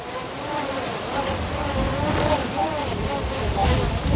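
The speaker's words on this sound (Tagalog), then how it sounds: "Sobrang lakas ng hangin" Strong wind gusting on Mt. Makiling near Sto. Tomas, Batangas, as a DJI Mini 4 Pro drone flies, a low rumbling buffet under the drone's wavering high buzz.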